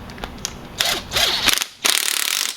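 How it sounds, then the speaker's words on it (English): An electric impact wrench tightens a motorcycle fork axle, two loud close bursts of rapid hammering whirr separated by a short gap, with some mechanical handling noise before. "Electric impact. We're going to go about 40 foot-pounds here."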